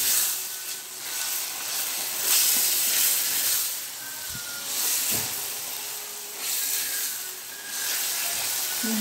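Minced meat with meat spices being stirred in a hot pan, giving a steady sizzling hiss that swells and eases as it is turned, with a few soft scrapes.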